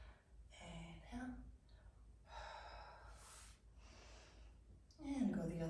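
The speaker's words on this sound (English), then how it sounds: "Inhale and exhale" Slow, breathy inhales and exhales during a yoga flexibility stretch, several airy breaths in sequence, close and soft, with brief voiced sighing or speech between them.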